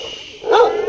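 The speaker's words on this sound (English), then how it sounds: "this dog is very noisy" A dog on a walk through a garden area in Hong Kong gives a single sharp, angry bark at close range, preceded by a faint background hum.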